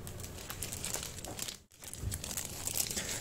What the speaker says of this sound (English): And there's a tape again. So I'm gonna cut it off first.